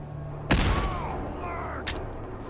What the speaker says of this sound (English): let's toss a grenade over there